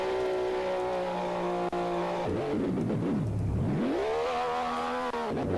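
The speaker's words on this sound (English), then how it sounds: "heading into the pits with the Ferrari and moving it back into the garage" A Ferrari race car engine in a Formula X practice session heading into the pits, a near, loud sustained whine that dips as it slows and then rises steadily again as it accelerates.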